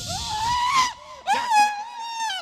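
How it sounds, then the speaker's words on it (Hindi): At a Christian prayer meeting in India, a person screams loudly and close during a deliverance, two long strained cries separated by a short break, with the voice wavering and cracking. "मुंह खोल और चिल्लार निकल जा"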